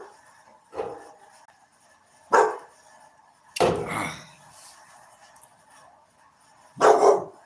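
A dog barks four times indoors at spaced intervals, each bark loud and sharp against a quiet background with faint electronic hum.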